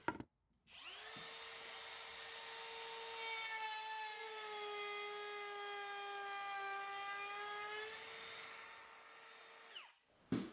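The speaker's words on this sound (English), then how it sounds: "let's use the same chamfer bit and make a small piece of molding with this board" A router fitted with a chamfer bit cuts a small moulding profile along a wood board, giving a steady, loud, high whine that holds for about nine seconds, then stops abruptly. No one speaks.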